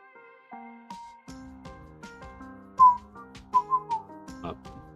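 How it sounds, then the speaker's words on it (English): Someone whistles a wandering, melodic tune close to the microphone, with a few sharp, loud peaks toward the end. "maybe whistling in the microphone is not a good idea"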